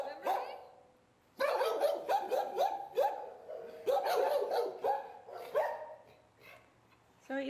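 A shelter dog barking in front of its kennel, loud repeated barks and yelps in bursts with short pauses, close by and echoing in an enclosed space, with no other voices.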